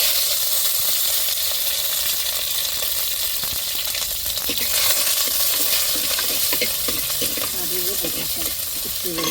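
Onion and garlic fry in hot oil in a home kitchen, a dense crackling sizzle with scraping stirs and occasional light clinks of a spoon against the pan.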